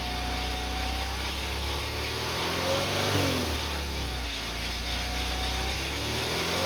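A Mitsubishi Eclipse engine revs and accelerates, pitch climbing then dropping as it shifts through gears, a steady mid-range drone throughout.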